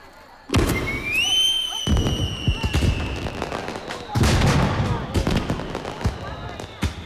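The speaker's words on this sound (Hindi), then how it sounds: "देखो कौन आतिशबाजी कर रहा है।" Fireworks go off nearby: a rising whistle followed by sharp bangs and crackling bursts that keep coming, with voices underneath.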